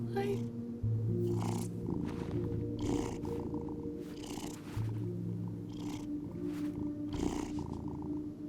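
A cat from a video game DLC purrs in a low, steady rumble that runs throughout, with brighter game sounds and voices breaking over it in regular bursts.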